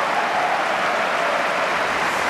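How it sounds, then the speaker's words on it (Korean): Audience applause at a tennis match, a steady wash of clapping from a large crowd, fairly distant and even throughout. "관중들 아낌없는 박수를 보내줍니다"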